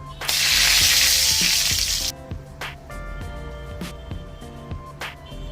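Dried red chillies hit very hot oil in a wok for tempering, bursting into a loud, close sizzle for about two seconds, then dying to a quieter hiss with light clinks and stirring knocks.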